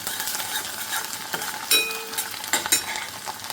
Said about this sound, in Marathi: आता बघा इथे कांदासुद्धा छान लालसर होत आहे बघा